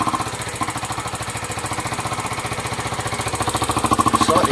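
A Sinnis motorcycle engine runs close by with one air port covered, giving a rapid, steady chugging pulse and popping exhaust that grows slightly louder toward the end, with no talking.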